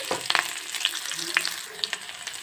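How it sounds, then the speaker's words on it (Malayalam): Onions sautéing in a pan for a moringa leaf thoran, a continuous close sizzle with frequent stirring clicks and scrapes in an uneven rhythm, no voices present. "ഇനി നമുക്ക് ഉള്ളി വഴറ്റിയെടുക്കാം കേട്ടോ."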